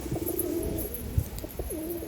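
Breeding pigeons coo in a loft, soft repeated throaty calls rising and falling close by over a steady low murmur of other birds.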